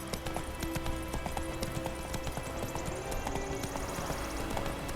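Roach the horse trots in The Witcher, with steady clip-clop hoofbeats in a quick rhythm under quiet music and ambient sound.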